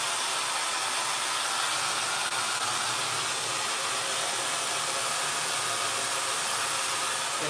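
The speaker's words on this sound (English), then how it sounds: "This blow dryer gets really hot." Close and loud, a hot blow dryer blasts without pause through a quickweave of beach blowout bundles, its constant rushing hiss holding steady throughout without voices.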